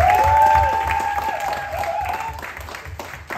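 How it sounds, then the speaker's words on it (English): A talent show audience applauds and cheers in a hall, with dense clapping and raised voices, while a sustained electronic tone sounds early on before the crowd noise fades slightly. "Can we give him a round of applause"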